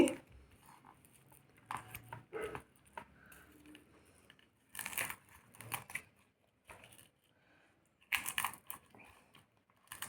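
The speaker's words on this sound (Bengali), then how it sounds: "এবারে যে রসুনটা ভেজে রেখেছিলাম সেটাকে মাখার জন্য ভেঙে নিচ্ছি" Fried garlic cloves are broken and crushed by hand for a tomato mash, giving sharp, dry crackling crunches in irregular bursts with quiet gaps between them, close and fairly faint.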